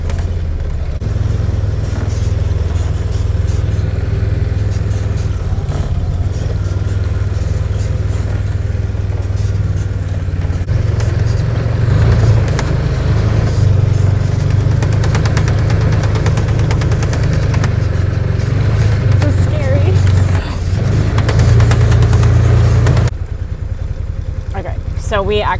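A UTV engine drones and knocks steadily as it drives through deep snow, a loud low rumble throughout with someone talking over it.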